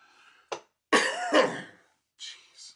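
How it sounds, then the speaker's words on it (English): A man coughs sharply, then breaks into a longer, rough bout of coughing and throat clearing, followed by a couple of softer throat-clearing sounds, close and alone with no talk. "Gotta start coughing now."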